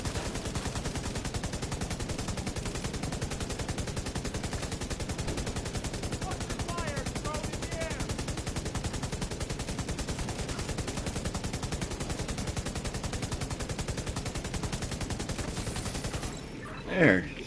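Automatic gunfire rattles almost nonstop in The Division 2, dense rapid bursts continuing loud and close for most of the stretch before cutting off near the end.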